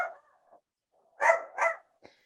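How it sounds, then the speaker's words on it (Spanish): A dog barks at home, two loud close barks with a softer yelp after, alone without speech. "Sí, perdóname, es que mi perro está..."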